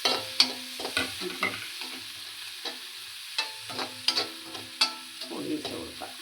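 Onions sauté in a pan in a Kerala-style kitchen, with a soft continuous sizzle broken by sharp clinks and scrapes of a spoon stirring against the pan, fairly close and moderately quiet, with no voices.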